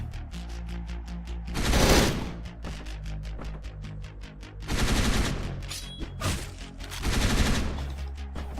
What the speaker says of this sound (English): So this is the machine gun. It's basically the same as the assault rifle, except it has lots more ammo